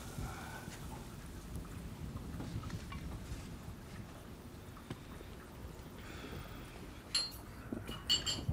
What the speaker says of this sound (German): Nur dieser Regen.